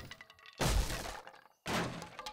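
A wooden door is smashed in the survival video game 7 Days to Die. Two heavy, crunching impact bursts land about a second apart, loud and close, with quieter game ambience between them.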